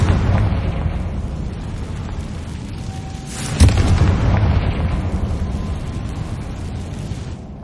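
A Confringo blasting spell goes off in Hogwarts Legacy, a single sharp boom landing mid-way through a rumbling, noisy game scene, with the low roar carrying on loudly after the burst.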